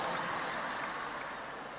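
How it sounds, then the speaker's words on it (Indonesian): A crowd at a live religious lecture in Surabaya claps as the speaker departs, producing a steady, diffuse wash of applause that fades slightly over two seconds. "tepuk tangan buat beliau"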